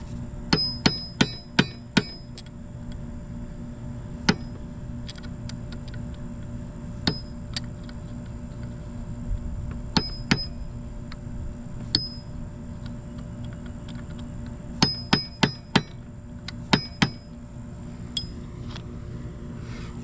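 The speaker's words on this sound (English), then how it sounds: "you want to get a punch and just punch this this nut down so it doesn't back out" A punch struck with a hammer to stake a nut into a groove on a Honda TRX500 ATV engine during clutch installation: sharp metallic taps in irregular clusters over a steady background hum, close and crisp, no talking.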